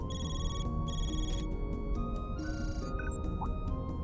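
A video game phone ringing in Trails Through Daybreak: bright, repeated electronic ring tones in short bursts with brief gaps, sitting over a dense layer of background game music and ambience.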